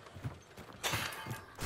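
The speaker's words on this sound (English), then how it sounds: "The horse is still going off." Horse in the video game Hunt: Showdown, soft rhythmic hoof clopping with breathy snorts, distant and low under game ambience.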